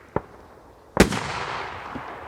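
A TXB203 Koneser triplex firework cake fires two sharp shots outdoors, a small pop followed by a much louder boom about a second later that trails off into a long crackling, hissing tail.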